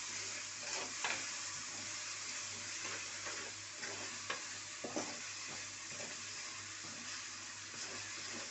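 Ginger garlic paste sizzles steadily in hot oil, a continuous frying hiss with occasional soft stirring scrapes and pops, close and moderately quiet, with no voices.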